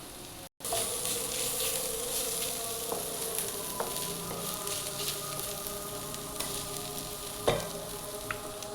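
Garlic, ginger and turmeric frying in hot oil in a pan, making a continuous close sizzle with occasional soft stirring clicks and a brief louder spatter near the end.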